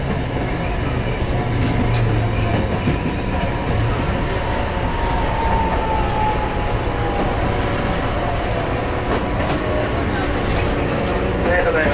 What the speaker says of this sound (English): On the last trolley car,